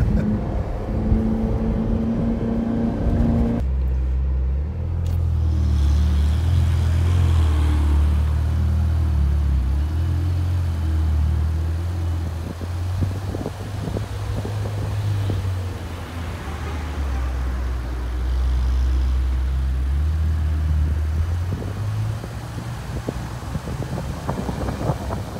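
A Ferrari Portofino's high-revving twin-turbo V8 drives and accelerates, a loud, steady engine drone rising and falling in pitch, with wind rush around it.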